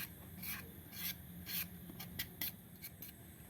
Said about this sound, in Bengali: এভাবে আমি ছুরি দিয়ে ঘষে নিচ্ছি